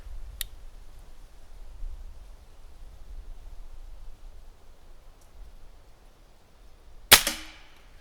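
A Black Bunker BM8 survival air rifle fires at a target: a short snap at the start, then after a quiet pause a louder, sharp crack with a brief ringing tail.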